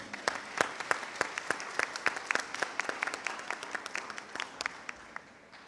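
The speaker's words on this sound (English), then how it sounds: "Let's give a round of applause to each one of them." A commencement ceremony audience gives a round of applause, scattered sharp claps at first that thicken into a lively patter of many hands, then gradually thin and fade toward the end.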